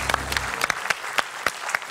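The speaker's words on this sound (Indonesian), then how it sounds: "Tepuk tangan dulu untuk Mas ini luar biasa." Audience applause at a talk show, a short burst of scattered claps that thins out over two seconds, moderately loud and close, with no talk over it.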